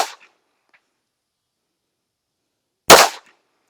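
A gunshot fired at a target: a single loud, close crack after near silence, preceded by a faint tick at the very start.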